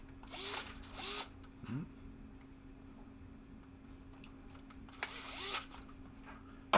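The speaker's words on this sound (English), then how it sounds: "Take the screws, tighten them down." Screws being driven into a 1972 Williams pinball playfield with a power driver: two short whirring bursts near the start, a quieter third, then a pause before two more bursts, all close and fairly loud.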